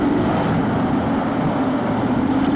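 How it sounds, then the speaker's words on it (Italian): A Moto Guzzi motorcycle at a centenary rally runs with a steady, dense engine drone, close and continuous throughout with no talk over it. "Sta moto, sentila"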